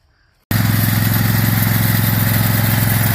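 Big Duramax diesel engine running with the hood off and exhaust wrap fitted, starting abruptly after a near-silent moment and then idling loud and close in an even, throbbing rumble.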